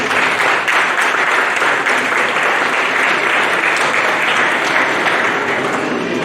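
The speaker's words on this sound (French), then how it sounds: "Je vous demande de l'applaudir." Loud, close, unbroken applause from an audience at a book presentation in Sainte-Anne, dense clapping that holds steady throughout.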